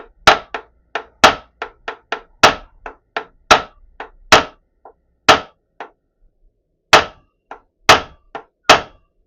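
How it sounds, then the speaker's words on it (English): Sharp metallic hammer strikes on a small pin in an Adcock & Shipley mill feed gearbox land one after another in an uneven rhythm, with brief pauses between bursts, loud and close. "as much hammering as I dare do on this really small pin"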